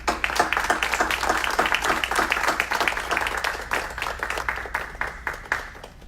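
An audience at a mayor's media briefing in the City of Aurora applauds with a steady round of many hands clapping that fades slightly toward the end, fairly close, with a few voices underneath.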